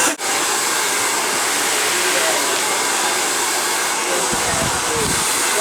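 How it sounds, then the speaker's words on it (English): A hair dryer blows with a steady, loud broadband whoosh from start to finish, with faint low rumbles under it near the end. "this dryer is kind of neat"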